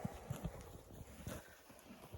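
Hooves of a pair of Novooleksandrivka draught horses clop in an uneven rhythm close by, with soft thuds over a steady background of wind and outdoor noise.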